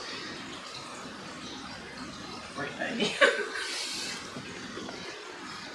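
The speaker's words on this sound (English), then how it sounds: "And now I'm just doing water change." Water sloshes and splashes during a water change in a small nano aquarium tank, swelling briefly in the middle over a soft background wash, with a short spoken remark.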